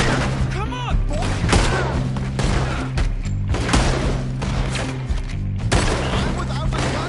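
Gunfire crackles in Red Dead Redemption 2 during a chaotic shootout, loud repeated shots and thumping bursts in uneven clusters, with shouting voices mixed among the blasts.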